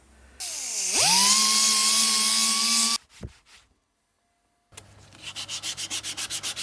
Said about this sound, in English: Using the orbital, which is obviously the easiest one, at 80 grit